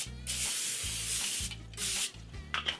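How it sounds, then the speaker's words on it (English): Cooking spray aerosol hissing onto a foil-lined baking sheet in short, loud, close bursts, a long spray followed by several briefer ones with faint rubbing between. "Use some sort of cooking spray"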